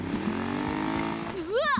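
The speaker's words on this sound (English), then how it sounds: "Body sounds like a motorcycle engine." Revving motorcycle-like engine sound effect in a horse racing video game, a steady droning tone that rises and whines upward near the end, moderately loud with game background.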